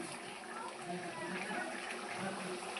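Prawn curry broth bubbling in a pot, a steady close hiss and simmer of boiling liquid that runs unbroken throughout, loud and alone without any voices.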